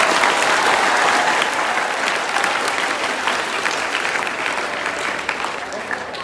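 Applause from a large audience at a motivational talk, a dense steady roar of many hands that stays loud throughout and tapers only slightly toward the end.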